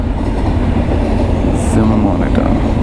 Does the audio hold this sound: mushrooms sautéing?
no